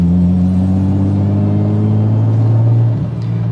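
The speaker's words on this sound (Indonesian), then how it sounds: "sekali kita gas ya kayak kita gas nih gigi 3 1500" Loud, close engine drone of a BMW E36 car accelerating in third gear from around 1500 rpm, a steady humming rumble with harmonic whine that briefly dips near the end.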